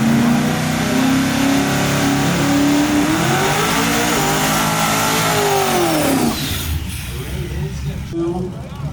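The Sinister Shop Truck revs hard at The Hill drag strip in the Sinister Performance Tailgate class. Its loud engine pitch climbs, then swells and sags before the roar drops away, with a voice heard beneath it.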